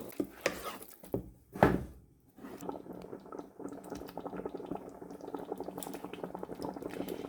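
A pot of vegetable stew without meat simmers on low heat, with a steady, close bubbling and gentle sizzling that runs throughout after a few brief knocks and a short pause, with no voices.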